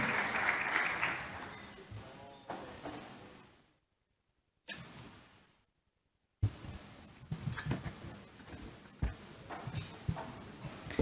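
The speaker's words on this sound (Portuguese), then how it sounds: "Queria pedir uma salva de palmas para Maria Fernanda Delmas" Audience applause at a Brazil China Meeting conference panel, a broad wash of clapping that fades out, breaks into silence twice, then returns with a murmur of room noise and scattered claps.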